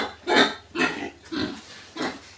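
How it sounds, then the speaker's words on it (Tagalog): Pigs on a farm grunt and oink in four separate bursts spaced about half a second apart, close and fairly loud against a low steady hum. "Mga baboy ko lang."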